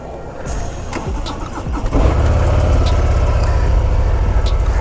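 A 2024 Harley-Davidson Breakout motorcycle engine rumbles up, then settles into a loud, steady, low-pitched idle that stays close and continuous, with no voices over it.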